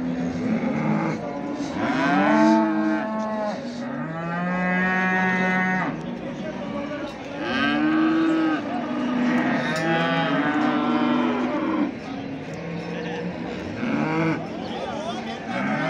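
Calves at a cattle market in Çorum, Turkey, moo repeatedly in loud, drawn-out calls that overlap one another, with a busy crowd murmuring and people talking nearby.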